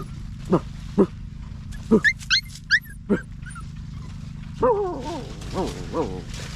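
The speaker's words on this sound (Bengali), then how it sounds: "কুত্তা ধরিছে আসো" A dog gives a series of sharp, separate barks, then several whimpering, yelping cries toward the end, fairly close.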